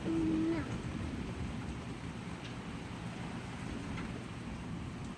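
Steady rain falls outside an open doorway, a constant hiss with a brief tonal squeak at the start and faint scattered ticks.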